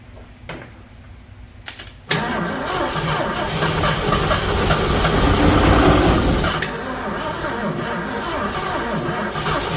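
A 1972 Ford Mustang engine, run after sitting for years, catches after a short cranking start and then runs with a loud, rough, steady roar close by, swelling in the middle before settling.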